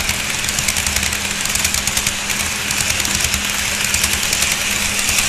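A detailed model train locomotive plays its diesel engine sound, a steady loud rumbling drone with a low throbbing pulse and a faint whine running continuously.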